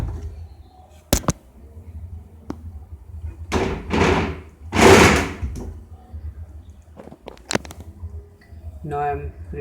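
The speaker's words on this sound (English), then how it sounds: "Now door lock indication has gone, so now I can open this door." The door of an LG 6 kg front-load automatic washing machine is opened, with sharp clicks and thuds and a few louder bursts of handling noise spread over several seconds, and no voice heard.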